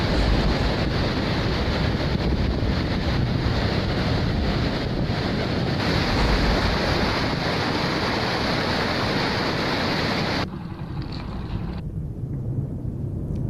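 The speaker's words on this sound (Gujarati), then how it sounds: "જૂનાગઢનો મોટામાં મોટો ડેમ છે હસનાપુર ડેમ, જે ઓવરફ્લો થયો છે" Water overflowing the Hasnapur dam near Junagadh after heavy rain, a loud continuous roar of rushing water mixed with wind buffeting, steady and close for most of the stretch before dropping somewhat near the end.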